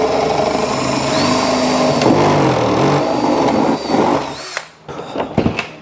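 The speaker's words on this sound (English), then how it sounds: "I'm drilling a hole in the bottom of this" A power drill boring a hole through the bottom of an enclosure for RCA cables and a power wire: a steady, close motor whine that runs for several seconds, then cuts off, followed by handling clatter.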